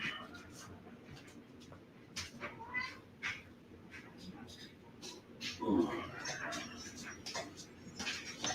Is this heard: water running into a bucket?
no